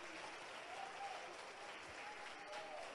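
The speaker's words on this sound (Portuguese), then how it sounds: "Se quer aplaudir, aplaude com força." A church congregation applauds loudly during a sermon about miracles, a sustained, even roar of clapping from a large crowd, heard faint and distant with some voices mingled in.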